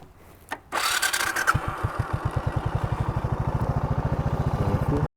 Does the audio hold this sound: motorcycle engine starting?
yes